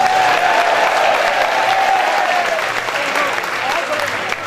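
Sustained, dense applause from an audience at a Hindu religious discourse during the Radha Ashtami festival in Barsana, holding steady and loud for several seconds before easing slightly at the end.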